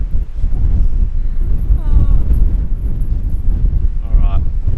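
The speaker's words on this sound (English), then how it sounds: "it's way too windy" Strong wind in a bush valley buffets the microphone in a constant rough roar, with brief bits of talking mixed in.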